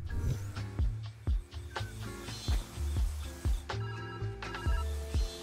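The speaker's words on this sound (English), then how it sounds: "Enough with the phone calls, man. They're too loud." A telephone rings in the puzzle video game Viewfinder, its repeated bell-like tones mixed with rhythmic low thumps from the game's soundtrack, fairly loud and with no voices.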